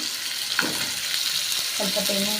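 Garlic and grated coconut fry in a hot pan for a dosa chutney, giving a steady, close sizzle throughout with a couple of brief scraping stirs.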